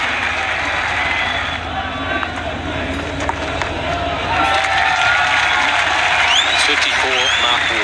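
Cricket crowd clapping and cheering at the Gabba during a Pakistan vs Australia Test match, a steady broad wash of applause under a commentator's voice that swells louder in the second half.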